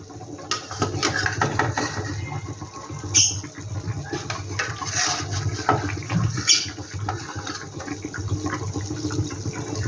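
Koi fish go into boiling curry gravy in a pan: bubbling, spattering sizzle with wet pops and scattered crackles, close and continuous.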